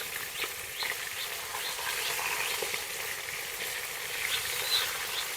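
Pangas fish pieces fry in oil, producing a close, moderately loud sizzle with scattered spitting crackles and small pops, steady throughout with no one talking.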